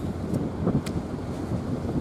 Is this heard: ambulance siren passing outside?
no